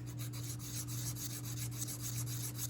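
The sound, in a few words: rubbing trigger parts with a diamond hone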